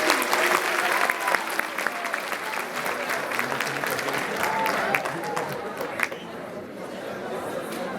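Evening gathering of a vocational high school of economics in Blagoevgrad, where the audience applauds to welcome the school director; sustained clapping mixed with crowd chatter, gradually thinning toward the end.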